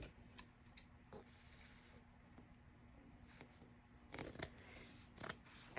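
Scissors snip through paper for a handmade floating-spine journal, with several quiet, close, separate cuts and a brisker cluster of crisp snips near the end, set against a faint steady hum.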